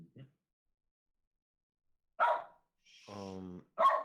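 A man drunkenly imitating a dog with his voice, giving two or three short gruff barks close to the microphone, separated by a brief voiced sound and stretches of silence.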